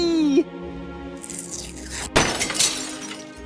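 In the Deponia Doomsday video game, a bird smashes into a stained glass window. A tonal sound cuts off, then a loud glass shatter follows, with fragments tinkling and scattering for about a second afterwards.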